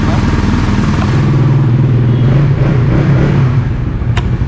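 Suzuki Raider FI 150 motorcycle engine starting on one click and settling into a steady, loud idle close by, with a low droning hum throughout.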